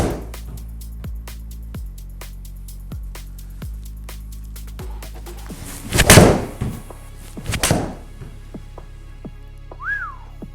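A Srixon iron strikes a golf ball outdoors, a single sharp crisp click that stands out loud and close against a steady background of ticking and faint distant whistling.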